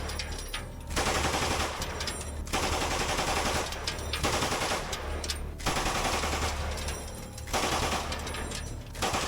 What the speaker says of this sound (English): Now he is about to give the Russians a taste of the MG3's full belt.